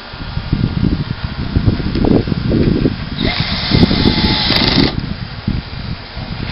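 A power drill at work while two people assemble a Suncast plastic shed, a steady whine running about a second and a half, set against ongoing background noise and movement.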